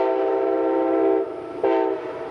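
An Amtrak train horn at a small whistle stop in South Carolina sounds a loud, steady multi-tone blast that dips briefly, then swells again before easing, with no talk over it.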